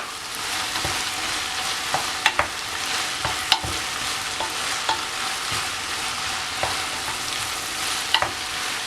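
Steady sizzling of julienned vegetables and mushrooms frying in a pan for chicken noodles, with occasional stirring clinks and scrapes, close and continuous.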